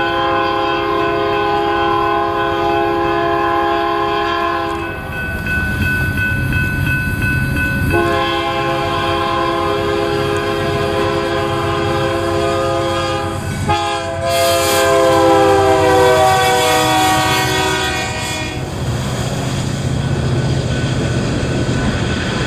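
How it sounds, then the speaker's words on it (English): A BNSF freight led by EMD locomotives, assisted by Canadian Pacific and Kansas City Southern units, rumbles past close by on a curve into a North Texas town, with long blasts of a loud multi-chime horn over the steady engine drone. "we find the daily HALT AMS sweeping around the curve into town with assist from Canadian Pacific and Kansas City Southern EMD motors"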